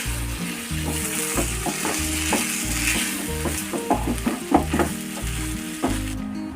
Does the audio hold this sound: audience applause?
no